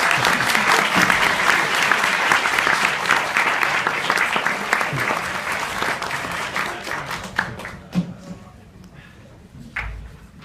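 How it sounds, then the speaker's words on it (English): Dense audience applause fills a live evening event hall for two participants, Johnny and Lisa, with a few whoops; it thins and fades over the final few seconds into scattered claps. "Please give a warm applause to Johnny and Lisa."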